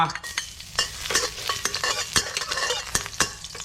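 Lemongrass and kaffir lime leaves are stir-fried for tom yum in a hot pan, a continuous sizzle punctuated by sharp, rhythmic scrapes and clacks of a spatula, close and busy.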